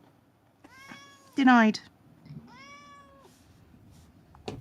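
A cat meowing close by, several clear drawn-out meows with one loud rising cry in the middle, while a person speaks briefly.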